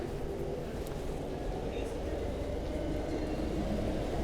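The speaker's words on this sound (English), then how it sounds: "Oh yeah, this is cool too with the train." A train rolls through a Tokyo street at night, a steady, close, broad rumble that holds for several seconds over the low hum of the city.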